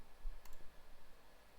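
A computer mouse clicks during a software tutorial on adjusting layer transparency and effects: a few quick sharp clicks over steady background hiss, close and fairly quiet.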